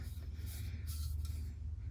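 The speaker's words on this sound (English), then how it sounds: "Put a little bit of, I have this Faultless Magic Light Finish ironing spray sizing." Faultless Magic Light Finish ironing spray sizing is sprayed onto quilt fabric in a few quick, quiet hissing puffs against a low steady background hum.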